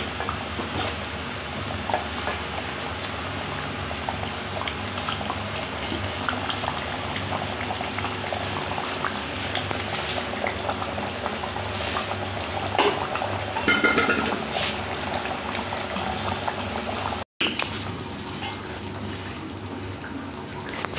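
Duck meat boiling in a pot while being cooked, a steady bubbling and simmering hiss that runs throughout, with faint kitchen clatter.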